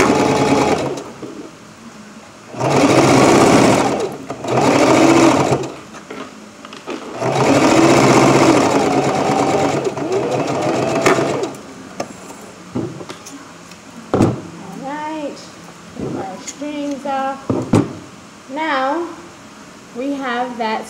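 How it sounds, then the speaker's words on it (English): A sewing machine stitches a fabric face mask to close its opening, running in loud, steady bursts with short pauses between. Later the motor falls quiet and a person talks. "we're gonna sew that opening together"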